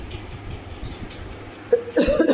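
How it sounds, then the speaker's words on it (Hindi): A quiet background gives way to a couple of sharp, harsh coughs near the end, close to the microphone. "सॉरी खांसी आ रही है"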